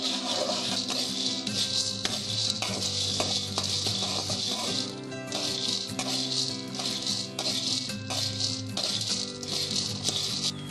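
Dry corn kernels are stirred in a hot pan while roasting to golden brown, giving a continuous close rattling and pattering scrape with steady loudness and no talking.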